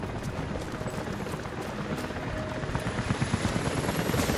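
A helicopter in the video game Rise of the Tomb Raider thrums with steady, rapid rotor chop, a continuous beating drone that grows a little louder toward the end, with no talk.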